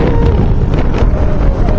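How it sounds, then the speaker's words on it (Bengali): Strong wind gusts across a hilltop near Massanjore, roaring loudly and continuously into the microphone with a heavy low rumble and no voices. "পাহাড়ের ওপরে তো মনে হচ্ছে বাতাসটা একটু বেশি।"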